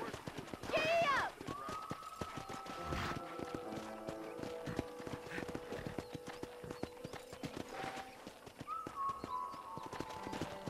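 Horse galloping in the video game Red Dead Redemption, rhythmic hoofbeats with saddle creaks and a brief whinny, running under a voice talking throughout.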